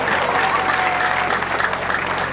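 An audience at an academic graduation ceremony at ISDR-Bukavu breaks into loud, sustained applause, a thick continuous patter of many hands with faint crowd murmur mixed in.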